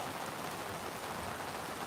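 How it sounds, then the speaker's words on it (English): Steady rain during a rainstorm, a dense, even hiss of drops pattering on surfaces, constant and fairly close for the whole stretch. "now that I've got some rain"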